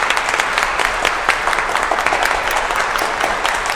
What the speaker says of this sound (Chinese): 再次把掌声献给我们所有的冠军们